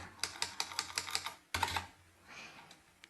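Fingers type on a computer keyboard, giving a quick run of crisp keystrokes, a short pause, then another burst of clicks that fades into quieter tapping. The sound is close and fairly soft.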